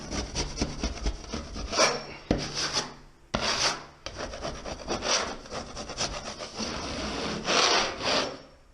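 A trowel dragging joint compound across a popcorn ceiling in a skim coat, close rasping scrapes in uneven strokes with short pauses between passes, no talking.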